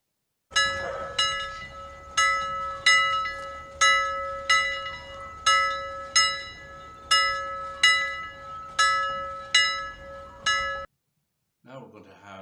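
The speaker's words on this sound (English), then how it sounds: "Oh yes, I hear bells." Bells ring at a children's church service in a slow, steady series of about a dozen evenly spaced, resonant strikes, each decaying before the next. They stop abruptly and a voice follows.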